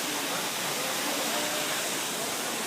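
Buong-Ulanan Falls, a waterfall, pours as a steady, broadband rush of water that stays even and continuous from start to end with no breaks.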